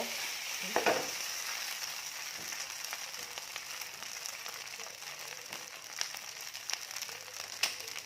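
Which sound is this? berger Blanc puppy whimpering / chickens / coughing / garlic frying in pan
garlic frying in pan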